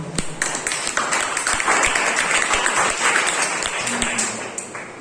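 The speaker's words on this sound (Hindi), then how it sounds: "फादर्स डे के लिए 2 तालियां हो जाएं।" Clapping from a congregation at a Sunday morning church service on Father's Day, a sustained burst of applause fairly close and loud, with a voice briefly heard toward the end.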